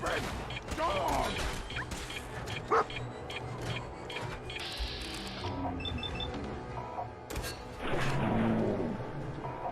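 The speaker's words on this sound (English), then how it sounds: "Stupid dog!" A dog barks in the video game Fallout 4, several sharp yaps and barks scattered over a busy, loud backdrop of game sounds and mechanical clatter.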